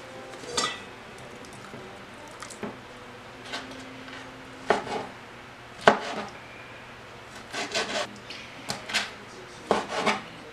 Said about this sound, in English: So we're just going to cut these inch and a half pieces.